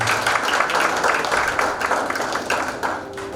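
A church congregation claps for a speaker, giving a short burst of moderately loud, uneven applause that gradually tapers off over a few seconds.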